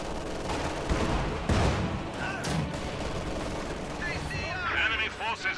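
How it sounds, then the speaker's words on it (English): Mortar shells fall in a competitive strategy video game, landing as dull booms and bursts of battlefield gunfire, while a commentator keeps talking over the combat. "Mortars continuing to fall"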